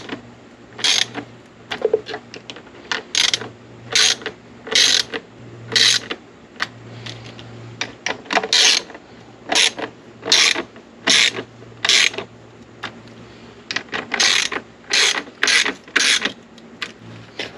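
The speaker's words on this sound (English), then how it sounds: "I'm going to go actually get a wrench, and we're going to hand tighten these the rest of the way" Ratchet wrench tightening hose reel mounting bolts into plastic anchors in masonry, a run of quick clicking bursts in a steady rhythm, close and loud, with a faint low hum underneath.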